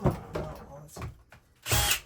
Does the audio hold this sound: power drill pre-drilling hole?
yes